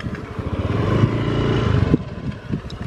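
A motorcycle engine runs close by near a railway bridge, rising to a steady rumbling drone and then easing off abruptly, with faint background noise.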